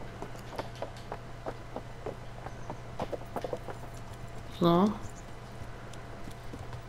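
In Kingdom Come Deliverance, a horse's hooves clip-clop in a quick, regular rhythm over several seconds, fairly faint under a steady low hum, with a man's short spoken word partway through.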